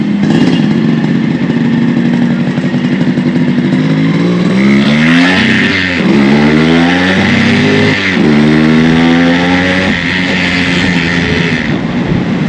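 A fully restored Yamaha RX 100 two-stroke motorcycle rides along with its exhaust loud and close, a steady droning note that rises through repeated gear changes as it accelerates, with no talking.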